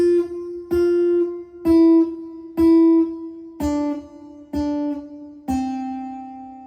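Plucked guitar riff, played without a capo: seven clear single-note plucks with ringing harmonics, each struck then left to decay, close and alone with no talking.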